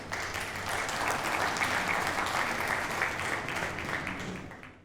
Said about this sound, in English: So please give a round of applause to Peter.